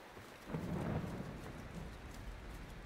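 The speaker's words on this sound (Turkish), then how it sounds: "Gök gürlüyor, yağmur yağıyor." A thunderstorm with rain in Mount & Blade II: Bannerlord gives a low rolling rumble of thunder that swells early, then fades into a soft, steady hiss of rain, all quite faint and without voices.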